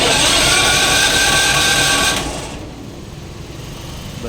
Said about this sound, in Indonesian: kita tes terlebih dahulu menggunakan tombol start. Dia bisa starter nggak gensetnya.